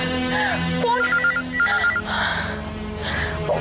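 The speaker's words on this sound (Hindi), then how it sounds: "हर टाइम वो टेलीफोन की रिंग बजती है" A telephone rings with repeated bursts of a bright electronic trill, fairly close, while people talk and a gasp is heard over it.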